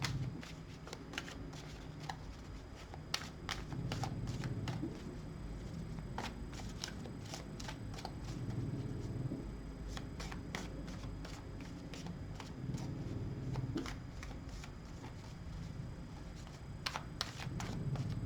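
A tarot deck is shuffled during a card reading, giving a steady, close run of crisp riffling ticks and soft slaps that continues for the whole stretch with no talking.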